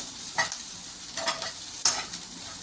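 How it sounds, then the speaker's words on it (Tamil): A pan of podi idli being stirred and mixed after coriander leaves are sprinkled over, giving soft scraping stir sounds with a light sizzle, a few brief louder scrapes standing out over a quiet frying background. "அந்த கொத்தமல்லி தழையை தூவி மிக்ஸ் பண்ணி விட்டு"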